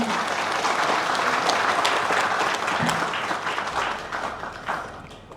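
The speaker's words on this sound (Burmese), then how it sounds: "အားလုံးလက်ခုပ်တီးဖို့ဖြစ်ပါတယ်" Wedding guests at a ceremony applaud in a sustained, moderately loud patter of many hands that gradually thins and fades toward the end.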